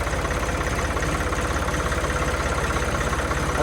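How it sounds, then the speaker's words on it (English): A Kubota U35 mini excavator's diesel engine idles steadily nearby, a continuous low throbbing rumble with a fine regular knock, loud and unbroken throughout with no one talking. "That's my mini excavator. It's a Kubota U35."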